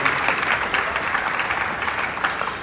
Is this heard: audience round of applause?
yes